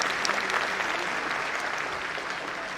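An audience at a government event claps in a dense, continuous burst of applause, moderately distant and fading slightly toward the end.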